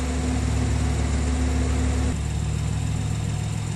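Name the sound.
1.5-litre car engine running to charge battery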